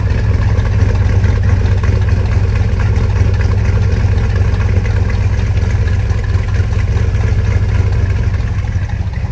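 A 1973 Plymouth Road Runner V8 idles loud and close through machine-gun style exhaust tips, a deep steady rumble with an uneven lope throughout.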